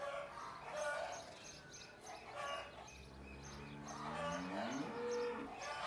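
Cows moo in drawn-out low calls amid outdoor ambience with birds chirping; a voice speaks faintly in the background.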